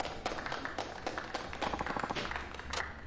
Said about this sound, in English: A very rough smattering of applause.